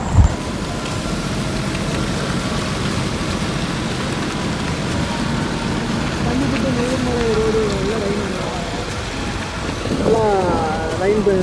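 Heavy rain pours during a night ride through Bandipur forest, a steady broadband wash that holds throughout, with a vehicle engine rumbling beneath and a voice talking over it at times.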